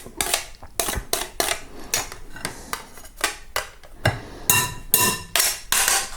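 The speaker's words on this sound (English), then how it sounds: "And then we mix that up." Cake batter for a classic English Tottenham cake being mixed in a bowl, a steady series of sharp clacks and taps of a utensil against the bowl's sides, fairly close and repeated in an uneven rhythm.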